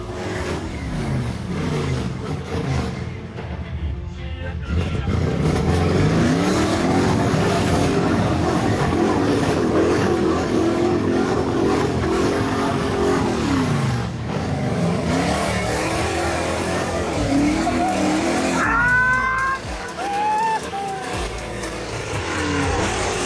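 An off-road truck's V engine roars and revs hard for a long stretch, loud and close, surging and easing as it claws through mud and rough terrain, with no talk over it.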